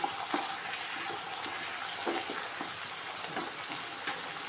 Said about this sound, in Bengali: গার্লিকটাও দিয়ে দিচ্ছি সাথে। ভালো করে ভেজে নেব